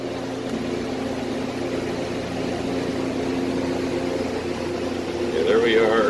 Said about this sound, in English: Now here goes the kiln unit.